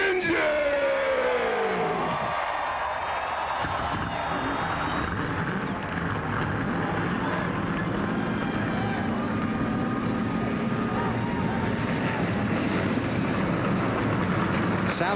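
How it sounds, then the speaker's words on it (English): NASCAR stock car engines fire up before the 2005 race on the Watkins Glen road course, with layered rising revs over a broad crowd roar and some talk. "Drivers, start those engines."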